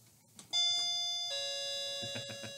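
Two-tone ding-dong doorbell chime, loud and clear, each tone ringing out and sustaining, over faint background rumble with a few soft knocks near the end.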